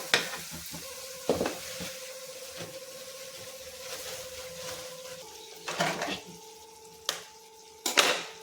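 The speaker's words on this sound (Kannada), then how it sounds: "ಈಗ ಉರಿ ಕಮ್ಮಿ ಮಾಡಿ ಮೊಟ್ಟೆ ಹೊಡೆದು ಹಾಕೊಳ್ಳಿ" Eggs are cracked one after another into a frying pan over low heat, each landing with a sharp tap and crackle over a steady soft sizzle, with a faint tonal hum running underneath.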